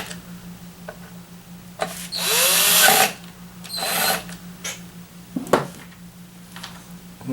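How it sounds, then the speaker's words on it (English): A power drill drives the two screws holding the plastic gas tank on a Craftsman string trimmer during a clutch repair, two whirring bursts of about a second each, with clicks and handling noise over a low steady hum. "Now I'm putting on the 2 screws that hold on the gas tank"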